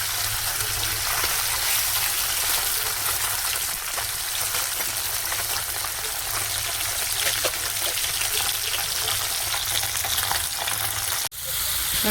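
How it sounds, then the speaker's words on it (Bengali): Bele fish fries in very hot oil, giving a loud, steady, crackling sizzle that runs unbroken close up, with a brief clatter near the end. "এবার মাছটা ভেজে নেব।"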